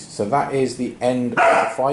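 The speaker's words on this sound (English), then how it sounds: "Apologies for the barking in the background." A dog barks in the background of a room during a tabletop wargame session, its yaps partly masked by someone talking over it.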